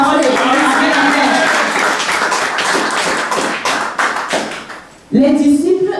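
Church congregation clapping and applauding together during a sermon on prayer, a dense, steady patter of many hands with voices mixed in, fading briefly before a loud voice cuts in at the end.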